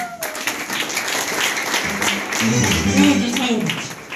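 A church congregation applauds in a sustained wash of clapping, with voices calling out and a low sung or spoken tone rising beneath the applause.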